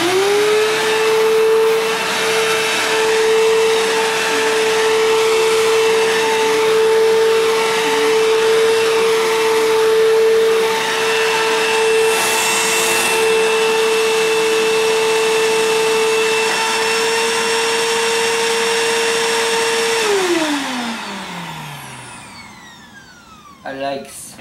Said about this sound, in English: Job well done, both vacuums.